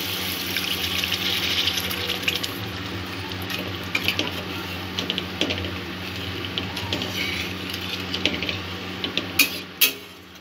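Water poured into a pan of poppy-seed spice paste during cooking, a steady close trickling and splashing with a few louder clinks near the end.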